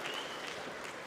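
Crowd cheering and applauding at a K-1 kickboxing super fight, a steady dense roar of many voices that holds loud through the moment without letup.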